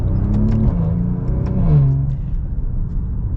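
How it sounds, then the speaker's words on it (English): Maserati Levante GranSport with a 3-liter V6 accelerating partway, exhaust rumbling loud and close as a rising engine note climbs then settles, heard from inside the car. "we'll get kind of a partial acceleration here"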